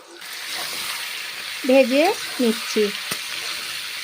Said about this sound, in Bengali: পেঁয়াজগুলো ছেড়ে দিয়েছি গরম তেলে